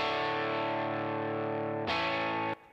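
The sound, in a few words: single coil Telecaster electric guitar part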